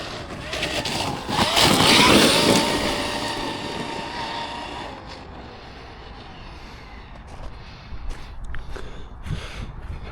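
A Traxxas X-Maxx RC truck churns through puddles outdoors, a loud rushing swell of motor whine and spray peaking early, then fading to a rougher, lower rumble with scattered splashes.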